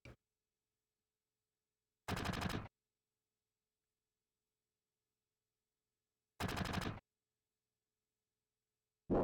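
Three separate gunshot bursts from Final Fantasy VII, loud and sharp, spaced by long silences, the first near the start, another around two seconds later, one more mid-clip and a final one cut off at the end.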